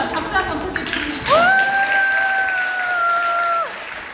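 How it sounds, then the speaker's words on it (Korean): Audience applause at a book talk fills the room as a soft, crackling spread of claps, while a voice speaks early on and a steady whistling tone rings out over the middle. "박수 한번 크게 주시고"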